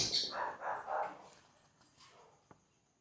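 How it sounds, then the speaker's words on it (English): A dog barks a few times at a distance in a quiet outdoor setting, with bird chirps mixed in and a short sharp sound near the end. "And here come the dog barking."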